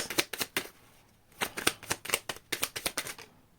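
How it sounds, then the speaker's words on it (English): Several quick riffle shuffles of a deck of cards, crisp fluttering bursts in close succession, with brief pauses between them. "Last shuffle."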